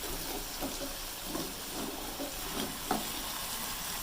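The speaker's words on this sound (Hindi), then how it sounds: "1 मिनट के लिए इनको आलू को मसाले के अंदर फ्राई करेंगे" Small potato pieces fry in masala in a pan, a faint, even sizzle running throughout with a few soft stirring scrapes over it.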